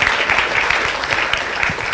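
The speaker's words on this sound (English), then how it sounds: "let's give another round of applause to our speaker" Audience applause for a guest speaker at a 2017 impact speaker event, steady dense clapping from a nearby crowd throughout, loud and unbroken.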